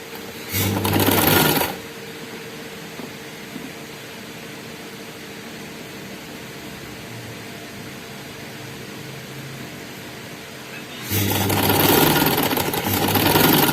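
A sewing machine stitches gathers on a frock bodice in two loud bursts of fast, steady whirring at the start and end, with a quiet low hum between them.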